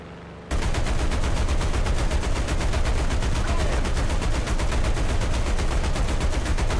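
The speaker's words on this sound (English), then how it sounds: "It was just a single machine gun hit, and that's all." Aircraft machine guns fire in War Thunder, a sudden start into continuous rapid bursts that are loud and steady throughout.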